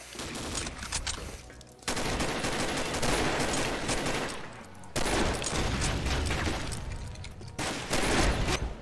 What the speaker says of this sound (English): this piece of shit sniper rifle